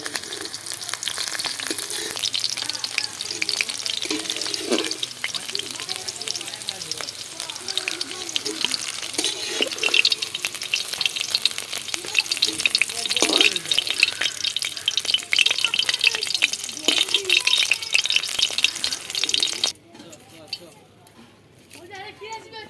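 Okra frying in hot oil as the pieces are lifted out, a continuous close crackling sizzle with scraping and clinks of a spatula, then a sudden drop to quiet near the end.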